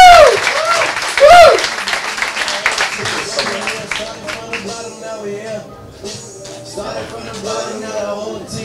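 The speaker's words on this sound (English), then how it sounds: "Everybody give a clap for Thomas!" An audience claps for a comedian at a live comedy show, steady applause mixed with crowd noise. A loud, close voice talks over it at the start, and speech-like tones carry on beneath the clapping.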